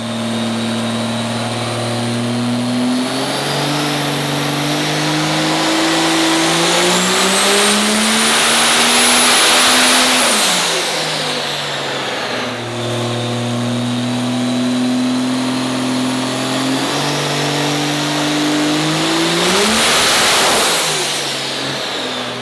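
A 2007 Ram diesel pickup with 24K miles and a small nitrous setup runs on a dyno. The engine roars loud and close, climbing through two long pulls, each rising in pitch and then dropping off, with no talk.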